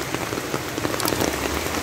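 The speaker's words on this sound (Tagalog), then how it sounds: "ang lakas ng ulan" Heavy rain pours steadily onto a surface during a delivery run, a dense, continuous wash of close drops with a few louder splatters and no voices.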